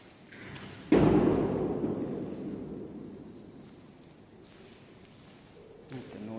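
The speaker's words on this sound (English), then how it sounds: "Of a door shutting behind me." A single heavy door slams shut with a loud thud inside an abandoned, condemned multi-story building, the boom echoing and decaying slowly through a large, reverberant space.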